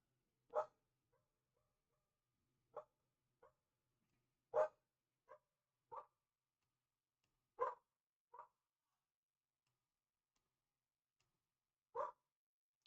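A dog barks in isolated single woofs spaced a second or more apart, about nine in all, moderately distant against otherwise quiet surroundings.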